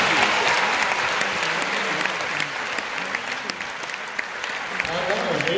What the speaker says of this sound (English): So, a round of applause to all of them.